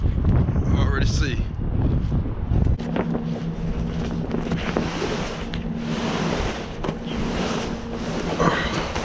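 Strong wind gusting and buffeting around a flatbed truck loaded with steel coils, a steady roar with microphone rumble throughout, plus a low hum after the first few seconds.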